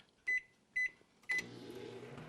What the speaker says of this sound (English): I've got some milk in my microwave. I'm just going to heat that up for about 30 seconds